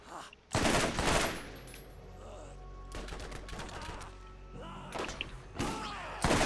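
Bursts of gunfire in the video game Borderlands, loud, close volleys of rapid shots and thuds coming in several clusters, with players talking over some of them.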